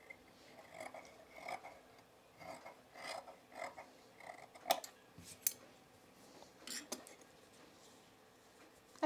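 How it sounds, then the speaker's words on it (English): Scissors snipping fabric to trim a blouse edge, a series of short crisp cuts in uneven bursts, close and fairly quiet, with brief sharper clicks in between. "Let's trim off this little bit I didn't get perfectly cut on here."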